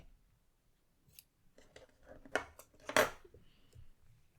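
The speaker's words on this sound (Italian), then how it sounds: "prendo le forbici e vado a tagliare il filo in eccesso." A few crisp snips of scissors cutting excess crochet yarn on an amigurumi, close by, with soft handling sounds in between and a sharp cut near the end.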